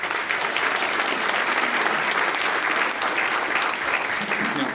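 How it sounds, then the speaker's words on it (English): A crowd at a community thank-you event breaks into sustained applause, dense and even clapping that stays loud and steady for several seconds without speech. "Why don't you give yourselves a round of applause."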